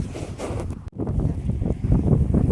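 Strong gusting wind buffets the microphone with a heavy, continuous rumble, broken by one brief dropout.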